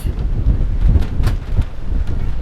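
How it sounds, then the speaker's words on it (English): Strong wind buffets the microphone on a cruise ship's glass walkway above the sea, a continuous loud rumble with gusty swells and no voices. "Woo, it's windy."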